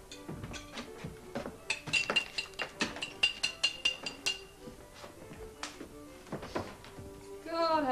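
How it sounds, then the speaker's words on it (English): Wine glasses clinking in a period drama setting, a string of light glassy taps and chinks with soft thunks of handling, close and fairly quiet, with no speech. "Well, let's have a glass then. A wine glass."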